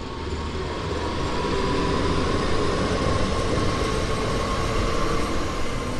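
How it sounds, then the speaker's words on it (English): A BR422 electric multiple unit in the Rhein-Ruhr area between Wuppertal and Hagen, from the Train Sim World game, rumbles steadily with a dense, continuous roar of wheels and motors and a faint whine, heard from on board. "You're currently riding a BR422 electric multiple unit."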